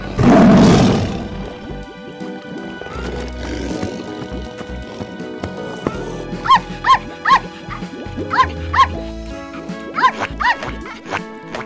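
A loud lion roar bursts out at the start, then gives way to a busy cartoon-style music track with repeated sharp barking-like accents and bouncy tones.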